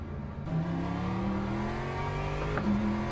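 A McLaren race car's grunty engine in the racing game Le Mans Ultimate drones steadily as it accelerates, the pitch climbing through gear changes, loud and close without voices.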